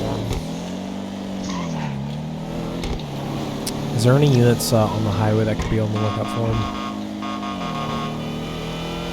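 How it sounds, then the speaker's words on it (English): A blue two-door sports car in a video game drives with a steady engine drone and a brief louder surge midway, while a voice talks over it throughout. "I believe it's a 2-door sports car. It's blue."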